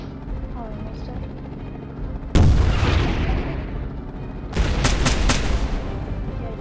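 Explosions and gunfire from the Airship.C helicopter game: a sharp blast followed by rumbling decay, then a second burst of rapid shots and booms, over a steady helicopter drone with a voice talking.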